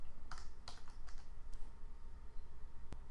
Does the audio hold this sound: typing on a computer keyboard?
yes